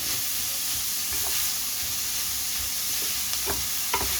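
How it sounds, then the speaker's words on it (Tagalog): Ground beef sizzling steadily in a pan while being stirred, a constant loud frying hiss with a few sharp scraping stir knocks near the end. "Halo-haloin natin na maluto ang ating beef giniling."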